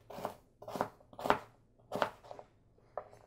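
Beets being chopped with a knife on a plastic cutting board: five crisp, evenly spaced chops close up, with no talking.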